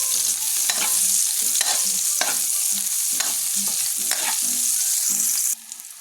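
Onions frying until golden brown in a Bicol home kitchen, a loud, continuous sizzle broken by rhythmic scraping stirs about every half second that stop just before the sound drops away at the end.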